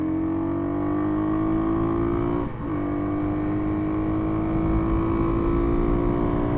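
A Kawasaki KLX300 dual-sport motorcycle engine holds full throttle with a steady, loud drone and a slight pitch dip near the middle before it settles back to a constant high hum, close and continuous with no talk.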